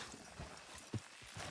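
Faint horse hoofbeats clip-clopping, a few soft, scattered knocks with one sharper strike midway, quiet and distant.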